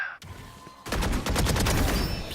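Gunfire in the tactical shooter Valorant: a single shot, then a rapid burst of loud, close automatic fire that fills the rest of the moment.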